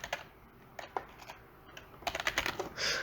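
Computer keyboard typing while entering an Excel logical formula, quick clusters of light clicks in short bursts, denser toward the end, close and alone with no talk.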